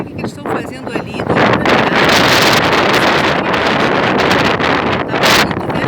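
Strong stormy wind buffets a handheld phone outdoors, making a loud, continuous roaring rush that swells in gusts for several seconds.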